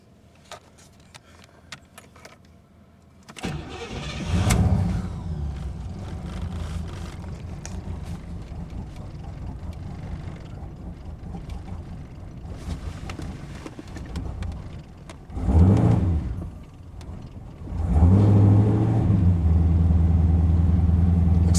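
1986 Corvette cranked and started after a quiet stretch, then idling steadily, with a couple of louder surges as the engine is revved near the end.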